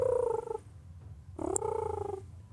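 A voice mimics a cat's purr in two low, rumbling, pulsing stretches separated by a brief pause, close and fairly loud.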